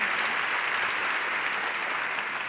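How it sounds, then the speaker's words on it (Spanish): Applause at a Barcelona arts gala fills the hall with a dense, even roar of many hands, sustained and fairly loud from start to finish. "15 anys, un altre aplaudiment."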